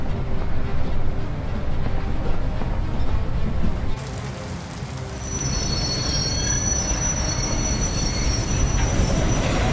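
Train in the game A Golden Wake rumbling loudly and steadily on its tracks during a storm, with squealing wheels and a brief dip in the noise midway before the roar resumes.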